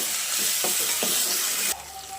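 Stirring tomato and ginger-garlic paste in a pan for chicken gravy: a steady hiss of frying with a few scraping strokes of the spoon, then the sizzle drops away abruptly near the end.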